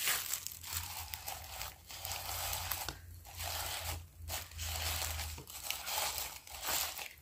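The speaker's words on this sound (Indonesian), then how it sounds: "salah satu dari kedua gelas kita tutup menggunakan plastik" Plastic wrap crinkles and rustles as it is stretched over a drinking glass, continuous crackling in uneven waves with short pauses, close and fairly quiet, with no voices.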